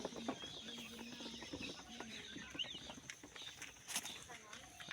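Thirty-day-old quail in a chicken cage chirp and cluck faintly amid light scratching and shuffling, with a person talking quietly nearby.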